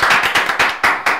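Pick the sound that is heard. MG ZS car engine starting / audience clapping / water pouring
audience clapping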